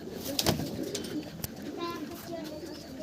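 A domestic pigeon at a loft coos softly a few times amid faint wing flutters and other quiet bird sounds, with low background murmur.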